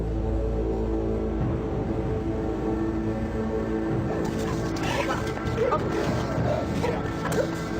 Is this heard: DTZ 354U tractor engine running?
no